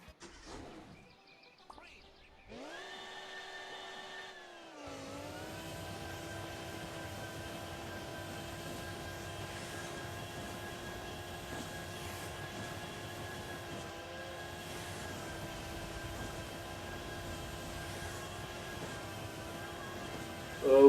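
Engine of an upgraded Formula car in Hill Climb Racing 2, revving up to a steady, sustained high-pitched whine that holds for a long stretch, with a brief rising rev at the start.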